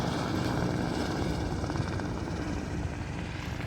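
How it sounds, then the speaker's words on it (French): A helicopter flies close by Klein-Matterhorn station in cold mountain conditions, its rotor chop and engine roar loud and steady throughout, with no voices over it. "Bah, il y a un hélico là."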